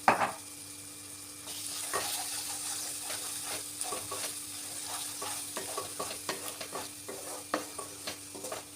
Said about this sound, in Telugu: అల్లం వెల్లుల్లి పేస్ట్ వేసుకొని కలుపుకోవాలండి